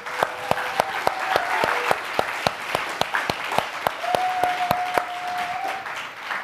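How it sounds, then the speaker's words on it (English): An audience at a film and music industry forum gives a speaker a round of applause, with sustained clapping and sharp, evenly spaced claps standing out near the front. "please give Rayce Stipanovich a round of applause"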